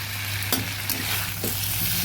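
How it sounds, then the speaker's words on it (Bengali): Vegetables frying in a pan for a rohu fish curry with data stalks and potatoes, stirred after the lid comes off: a close, continuous sizzle broken by a few sharp scraping stirs, with no talk. "ঢাকা তুলে সবজিগুলো আবার নেড়ে দিচ্ছি।"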